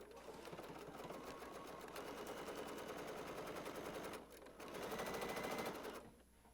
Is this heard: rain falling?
no